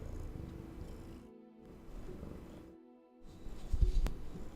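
A house cat purring close by, low rumbling cycles that swell and pause between breaths, growing louder toward the end with a brief sharp click near the close.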